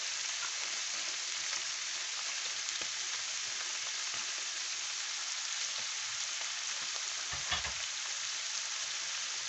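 Pork stir-frying in a wok after bean sprouts and green onions are added, with a steady loud sizzle throughout and occasional stirring scrapes, no voices.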